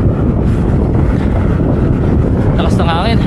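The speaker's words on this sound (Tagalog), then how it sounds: "lakas ng hangin. Narinig nyo" Strong wind buffeting the microphone while riding a road bike, a loud continuous low roar and rumble that fills the whole stretch, with a brief higher whistling tone near the end.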